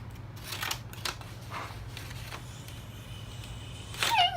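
Scissors snipping small pieces of nature material for handmade bookmarks, a few quiet close cuts spread through the clip, with a sharper burst of activity near the end.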